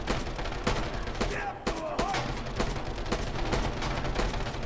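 Sharp gunfire cracks from the World War II shooter game Red Orchestra 2, with a German MKb.42(H) assault rifle in use, ring out in a quick irregular series of about eight shots over a constant battle din.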